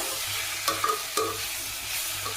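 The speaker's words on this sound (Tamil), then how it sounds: "தக்காளியும் ரொம்ப குறைவாக வதங்கணும்னு அவசியம் இல்லை" Tomatoes are sautéed in a pan for a chappathi side dish, with a soft continuous sizzle under a few scraping stirs of a spoon against the pan, all close and fairly quiet with no talk.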